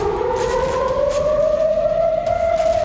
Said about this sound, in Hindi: तेल अवीव और दूसरे इलाकों में लगातार सायरन बज रहे हैं।